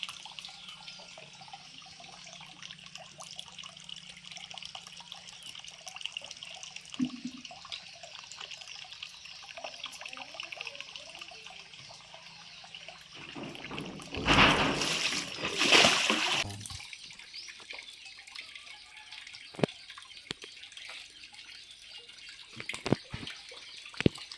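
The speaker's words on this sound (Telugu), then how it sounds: "నీళ్ళు పట్టడం అయిపోయిందా" Tap water runs into a container in a village home with a faint, steady stream, swelling to a louder splashing burst partway through, with occasional small knocks.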